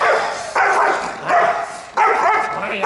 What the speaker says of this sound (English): Look at the intensity in the barking.